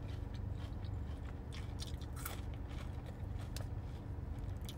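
Applebee's double crunch shrimp is chewed close up, giving soft crunching bites over a steady low background hum, faint and continuous without talk.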